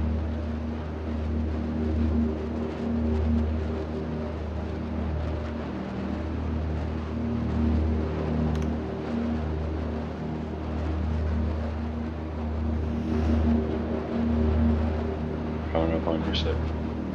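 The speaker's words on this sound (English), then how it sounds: "Engine sounds cool too." Banu Defender spaceship engine in Star Citizen, a steady low droning hum with layered tonal rumble that holds for the whole stretch, with brief chirps near the end.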